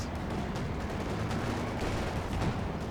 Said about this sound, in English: And now the Ostwind is opening fire on the paratroopers. Let's see. Bazooka team opening fire on said unit.